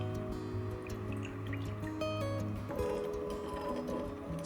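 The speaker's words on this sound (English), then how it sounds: "Add some water." Water pours into a cooking sauce of salt and sesame oil, a steady trickling fill with small drips and splashes, close and continuous without any speech.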